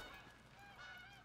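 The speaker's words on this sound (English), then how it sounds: "I hear geese." Geese honking in theHunter: Call of the Wild, a brief faint run of overlapping calls in the distance over quiet ambient background.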